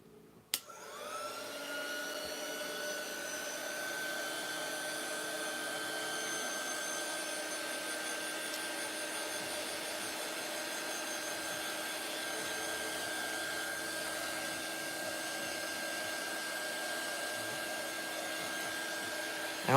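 A small hair dryer blows steadily over a piece of artwork, a loud continuous motor whine and rushing air that starts abruptly after a brief click and runs unbroken to the end.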